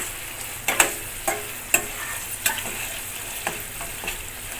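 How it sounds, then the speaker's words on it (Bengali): Spice paste sizzles steadily in hot oil while being worked for Bengali katla fish kalia, with about seven sharp scraping stir strokes at irregular intervals over a continuous close frying hiss; no talking. "মশলা যত ভালো করে কষাবেন তত স্বাদ হবে কাতলার কালিয়া"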